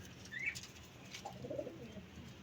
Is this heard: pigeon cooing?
yes